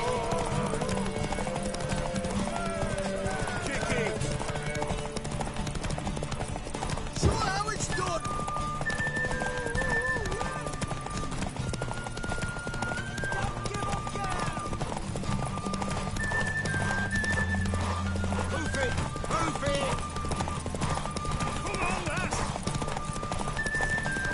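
Fast galloping hoofbeats of racing horses with occasional whinnies in The Witcher 3 video game, mixed under a busy music bed and some voices.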